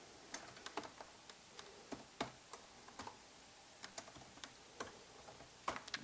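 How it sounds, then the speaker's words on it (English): Computer keyboard typing as simple test data is entered, a close, quiet run of irregular key clicks with short pauses between bursts, heard alone without speech. "I'm just going to type in some real simple test data in here."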